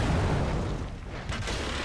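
A World of Tanks M10 takes incoming shell fire, heavy low booming impacts with a dense rumble, close and loud, dipping briefly before another hit lands.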